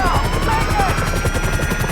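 A loud helicopter's rotor thumps steadily and rapidly close by in GTA 5, with engine whine and other game effects layered over it.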